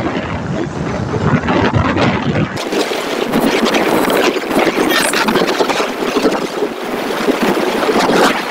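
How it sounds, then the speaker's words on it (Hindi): Wind blowing outdoors along a roadside, a loud steady roar buffeting the microphone for the whole stretch with no talking. "ये देखें हवा भी चल रहा है"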